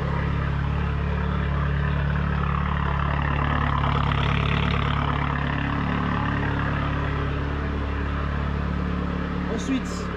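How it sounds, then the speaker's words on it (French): A push-button-start car with an aftermarket turbo timer idles steadily, a low continuous engine rumble close by that stays even throughout, with a brief click near the end. "La voiture démarre avec le bouton Start."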